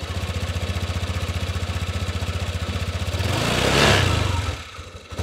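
A Honda Vario 150 scooter engine idles with a steady pulsing putter, then revs up briefly and settles back down, close to the listener.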